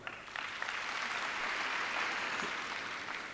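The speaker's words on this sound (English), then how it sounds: "I think we need a clap for that." Audience applause at a gathering of music award enthusiasts, a dense, continuous wash of clapping heard from a distance, fairly faint and steady throughout.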